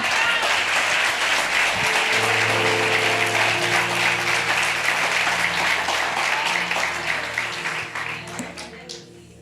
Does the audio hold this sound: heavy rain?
no